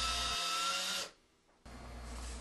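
A cordless screwdriver drives a screw through a drywall patch into a wooden wall stud, whirring steadily for about a second, then a short pause before the motor resumes at a lower, fainter pitch.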